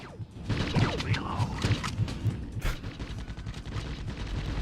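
Gunfire in the 1997 PlayStation game Judge Dredd: a steady run of repeated shots with low thumps, busy and fairly loud, mixed with other game effects throughout.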